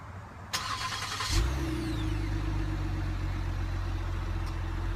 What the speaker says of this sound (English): Sounds good from the dual exhaust on this new Explorer.